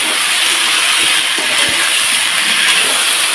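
Cauliflower florets slide into hot oil spiced with panch phoron five-spice, setting off a loud, steady sizzling hiss that fills the whole stretch with faint clicks of spitting oil.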